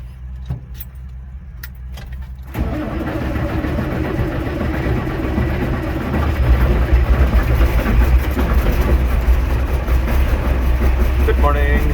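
An Allis Chalmers 7045 tractor cranks and starts in a cold shed after a few jangling key clicks, its diesel catching abruptly into a loud, rough idle that deepens and swells, with a voice speaking over it.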